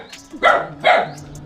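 A pet dog at a house barks twice in quick succession, sharp and fairly close, with faint background noise between the barks.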